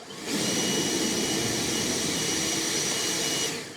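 An EGO Power+ LBX1000 leaf blower on turbo gives a loud, steady, broadband roar with a high whine. It ramps up quickly, holds constant for about three seconds, then cuts off.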